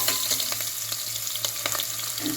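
Small onions (shallots) with curry leaves fry in oil for a country chicken curry, crackling and sizzling steadily at close range with busy popping throughout.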